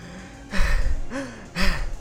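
A voice actor imitates breathing with three short, close, gasping breaths, each a sharp, strained intake separated by brief pauses.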